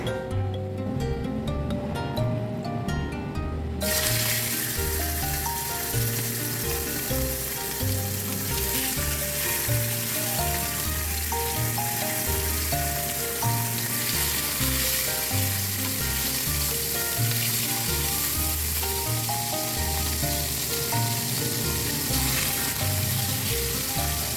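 Steady, loud sizzling of milkfish frying in hot oil, continuous crackle throughout with no talking.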